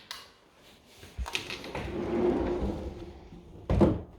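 A sliding door in a kitchen is opened, with a soft knock, then a long rolling glide that swells and fades, followed by a louder thud as it stops.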